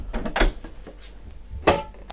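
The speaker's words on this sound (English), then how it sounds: "big drawers in here." A large drawer in the galley of a Pardo 52GT yacht slides open or shut, giving a couple of short, close wooden knocks and rumbles with a quiet gap between them.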